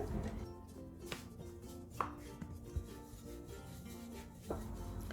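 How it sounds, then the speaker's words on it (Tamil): Pizza dough is rolled out with a wooden rolling pin, giving quiet, close rubbing and scraping passes with a few soft knocks against the board. "இப்போ நம்ம சப்பாத்தி கட்டையால் நல்லா இதை ரோல் பண்ணிக்கலாம்."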